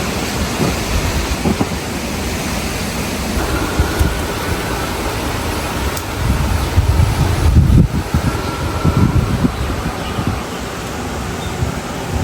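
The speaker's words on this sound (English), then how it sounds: "It's so windy today." Strong wind buffets the microphone in a continuous roar with gusty surges, loudest toward the middle, with no clear speech.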